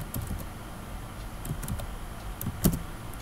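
Soft, scattered keystrokes tapped on a computer keyboard, a few quick clicks with one sharper tap near the end, close and fairly quiet.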